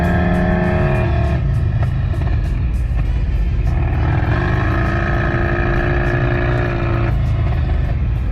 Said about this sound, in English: Viper, it's a V10.